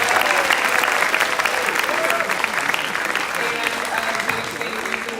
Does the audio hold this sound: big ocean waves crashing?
no